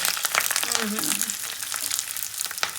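Cumin, curry leaves and dried red chillies crackle and spit in hot oil for an Andhra-style bachali kura chutney, a busy close sizzle with a voice briefly murmuring underneath.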